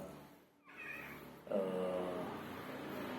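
A family cat meows twice nearby, a short call followed by a longer, drawn-out meow, against a quiet background.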